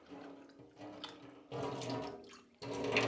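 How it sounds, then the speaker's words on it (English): Tap water runs over a cup being rinsed in a kitchen sink, a steady splashing flow that swells louder in bursts as the cup moves under the stream, close by with no talking. "So let me rinse the cup quickly."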